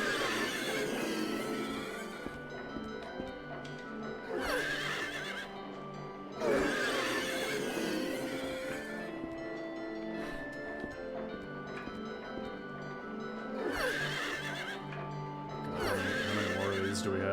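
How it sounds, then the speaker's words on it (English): A creature in the Silent Hill 3 video game gives repeated slowed, drawn-out squealing cries like a mix of horse neigh and pig grunt, loud and recurring every few seconds over an eerie low ambience. "It's like a pig noise almost. Yeah, it's like a mix between like a horse and a pig."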